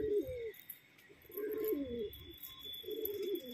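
Pigeons cooing nearby in repeated throaty, rolling phrases with short gaps between them, plus faint chirps and background noise.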